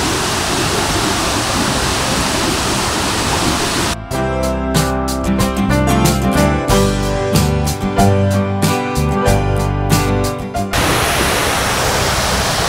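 Thommenkuthu waterfall tumbling down in layers gives a steady, broadband rushing roar at the start and end, with a stretch of tonal music covering the water in between.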